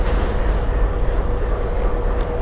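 The Sagardari Express intercity train runs between Rajshahi and Khulna, a steady low rumbling roar of wheels and carriage, loud and continuous, with no voices.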